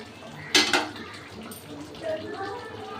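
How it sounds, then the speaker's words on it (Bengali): A metal lid lifted off a cooking pot of dahi potol, giving a sharp clattering clink near the start, followed by a soft sizzle and faint utensil noises. "এবার আমি ঢাকনাটা খুলে নিচ্ছি।"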